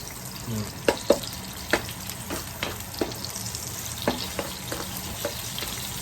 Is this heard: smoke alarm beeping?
no